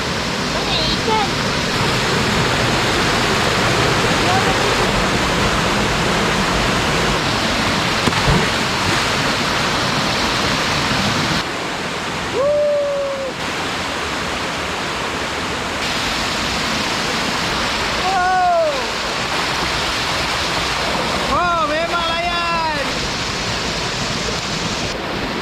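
A waterfall at a clear jungle stream near a river's source roars in a steady broadband rush throughout, briefly dipping mid-way, while a few short whistling bird-like calls rise over it.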